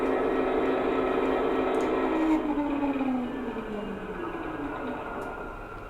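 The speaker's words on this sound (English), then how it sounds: "what I'll do now is I'll shut the loco down." Digital sound from a Hattons Class 66 model diesel locomotive shutting down, an engine drone that winds down in pitch and fades steadily over several seconds, heard alone.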